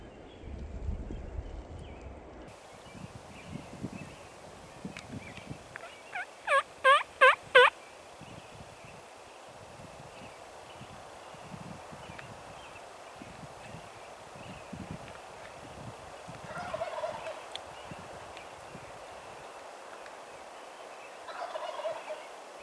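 A young male Merriam's turkey, a jake, gobbles close by on public land in the Black Hills of Wyoming, a quick burst of repeated loud gobbling notes amid faint rustling and quieter outdoor sounds.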